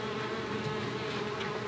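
Bees buzz steadily in a yard, a dense, continuous droning hum at close range with no voices.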